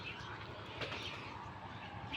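Pigeons in a new pigeon coop coo softly and indistinctly, a faint low murmur under a constant background hiss.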